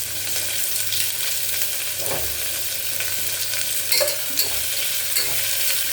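Onions sautéing with rock salt over high flame, a steady close sizzle with occasional spatula scrapes and taps against the pan, with no talking.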